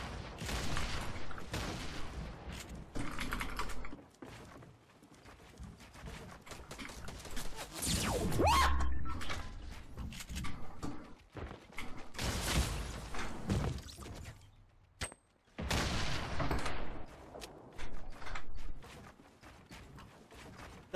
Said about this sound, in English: That was a perfect explosion.